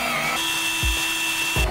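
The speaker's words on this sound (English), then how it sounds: "attaching the lower bed with screws" Power drill driving screws into a Capacity bunk bed frame, a sustained whining motor with a couple of low thudding bursts as screws seat, close and loud.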